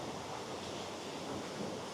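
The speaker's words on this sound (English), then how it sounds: "listening to the water, feeling the freshness in the air" Steady broadband rush of water pouring at a waterfall outdoors, a dense continuous roar heard up close with no breaks and no talking.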